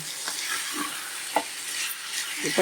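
Chicken pieces stirred in a pan for curry, a few soft scraping knocks of the spoon spaced irregularly over a low frying sizzle, close and quiet with no talk.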